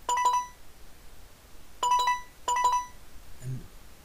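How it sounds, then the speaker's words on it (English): Warning tones from a FARO Focus laser scanner: three short electronic trills, the first alone and the next two close together, each a bright warbling burst with quiet pauses between them. "I can toggle any sounds that issue during a warning."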